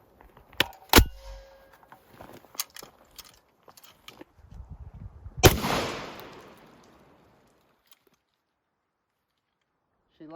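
A Citadel Boss 25 12 gauge shotgun fires high velocity steel shot, two sharp loud blasts several seconds apart amid metallic handling clicks and rattles, the second followed by a lingering ring.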